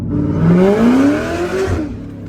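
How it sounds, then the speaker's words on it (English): A Z06 Corvette with its exhaust valves closed, heard from inside the cabin as rising supercharger whine over a loud engine drone that climbs in pitch, a steady close sound with no talk. "The only plus side to inside driving with the valves closed is you can hear the supercharger a little better"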